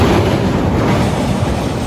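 Dhumketu Express train running from Dhaka to Rajshahi, Bangladesh, heard as a steady, loud, close rumble of wheels and carriage noise with no voices, recorded from on board.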